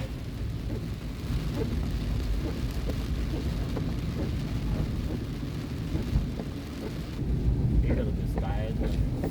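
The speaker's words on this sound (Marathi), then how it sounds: "खूप तुफान पाऊस आहे तुफान पाऊस काय थांबता थांबतच नाहीये" Heavy rain pours in a steady, dense roar on the Mumbai–Goa highway, with a louder surge near the end and faint rumbling underneath.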